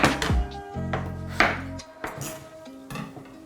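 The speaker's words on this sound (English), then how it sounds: "I'm going to just cut it in chunks and then boil it." A knife cuts microwaved, softened kabocha squash into chunks on a cutting board, several distinct chopping thunks spaced about a second apart, close and clear with no talking.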